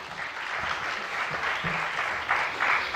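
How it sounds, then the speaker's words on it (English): Sustained applause from a conference audience at a climate leadership panel, a steady dense wash of clapping through the whole stretch, swelling slightly toward the end. "Please give them a round of applause."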